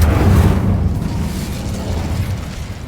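A fiery Incendio spell bursts in Hogwarts Legacy: a loud, close whoosh-boom that rolls into a sustained roaring rumble, then slowly fades.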